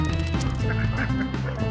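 A duck quacks loudly and close by in a rapid, repeated series of harsh, nasal calls filling the short moment.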